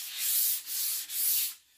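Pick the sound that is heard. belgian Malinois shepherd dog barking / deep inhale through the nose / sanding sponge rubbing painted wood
sanding sponge rubbing painted wood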